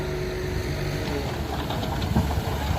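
A tractor engine runs with a steady, rumbling mid-pitched drone and faint knocking, close and continuous throughout, with no talk.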